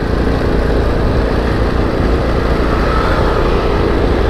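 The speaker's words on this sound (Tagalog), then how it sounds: "parang hirap ang motor ng umakyat dito" A motorcycle engine labors up a steep incline in low gear, a loud, steady, unbroken drone with dense rumble filling the whole stretch.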